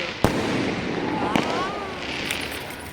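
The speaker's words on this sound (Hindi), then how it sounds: "तो क्रैकर्स भी कट रहे हैं यहाँ पे।" Firecrackers burst during a Karwa Chauth celebration: two sharp, loud cracks ring out over a steady outdoor hiss of crowd noise and distant crackling, with faint whistling streaks between them.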